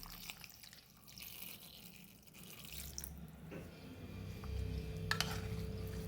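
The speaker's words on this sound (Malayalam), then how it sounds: "എന്നിട്ട് നമുക്ക് 1 കപ്പ് വെള്ളം ഒഴിച്ച് കൊടുക്കാം." A cup of water poured into a pot of ripe mango pulissery curry, heard as a soft, faint running and splashing trickle that continues for several seconds without talk.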